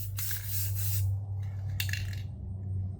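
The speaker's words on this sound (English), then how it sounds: "I'm spraying it different, like right here." Short bursts of aerosol spray paint on a custom paint job, several hissing sprays of varying length close by over a low steady hum, with no talk.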